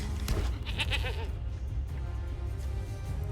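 A short goat bleat plays for a goat token in the Magic: The Gathering video game. It is one quiet wavering cry near the start that fades into a low background hum.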